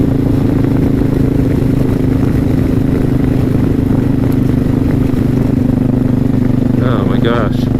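Suzuki S40 motorcycle engine drones steadily while cruising in fourth gear on a country road, a loud continuous close-up thrum with wind rush and no pauses.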